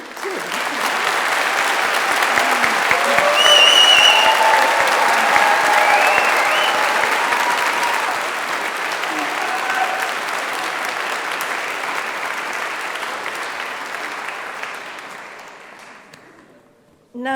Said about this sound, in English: Round of applause for Tim.